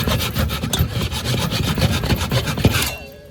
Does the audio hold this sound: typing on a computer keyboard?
no